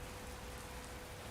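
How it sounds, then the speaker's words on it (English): Heavy rain falls steadily in American Truck Simulator, a dense, even downpour with no talk over it for the whole stretch. "it has started raining very hard in the game"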